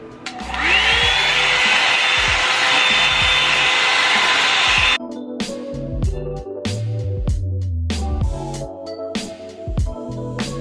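A Revlon One Step hair dryer and volumizer switches on at its high setting with a rising whir, then a loud steady rushing blow of air, followed by choppier, uneven airflow with bumps and rustles as it moves through thick, wavy hair.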